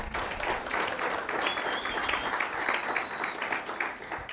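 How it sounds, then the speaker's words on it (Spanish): A church congregation at a preaching service gives dense, continuous applause that stays at an even level throughout. "Démosles un aplauso"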